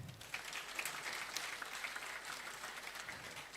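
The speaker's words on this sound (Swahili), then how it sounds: "Wapigieni makofi." A church congregation applauding, a steady crowd clapping that sounds somewhat distant and fairly faint, with no talking over it.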